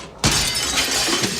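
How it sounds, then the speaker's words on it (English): A bucket smashes through a window on a film set, a sudden loud crash of shattering glass followed by sustained bright tinkling and debris that fills the rest of the moment. "the bucket smashing the window was completely unintentional"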